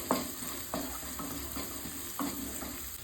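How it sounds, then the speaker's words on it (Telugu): Onion with curry leaves and a pinch of turmeric fries lightly in a pan, a soft steady sizzle close by, punctuated by three or four distinct spoon scrapes at a slow, even pace. "ఉల్లిగడ్డ లైట్గా ఫ్రై అయినాయి కదా"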